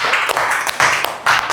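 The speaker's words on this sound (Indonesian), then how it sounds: "Tepuk tangan untuk Mbak Galuh sama Mbak Kena." Two students being applauded in a classroom: bursts of hand clapping from a group of pupils, several short loud volleys with brief pauses between them, no talking.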